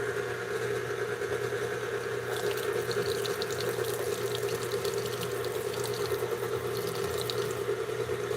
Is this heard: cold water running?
yes